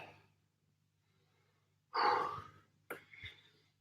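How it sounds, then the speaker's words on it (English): A deep breath during a home lower-body strength workout: one long, loud inhale or sigh, then a shorter breathy exhale, close to the microphone with a low hum beneath. "Big deep breath."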